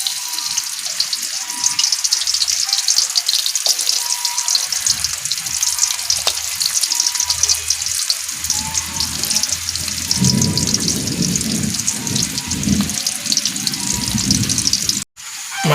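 Shallots and garlic sizzle in hot oil in an Indonesian home kitchen, a loud steady hiss and crackle that swells as stirring clatters in midway, ending abruptly.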